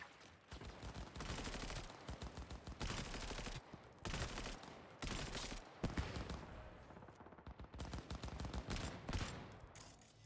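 Gunfire in the video game Cyberpunk 2077, dense, rapid automatic bursts and shots rattling almost continuously, with brief pauses between volleys.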